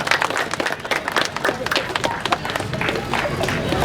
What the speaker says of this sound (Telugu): దయచేసి చప్పట్లతో వీరిని సన్మానించుకుందాం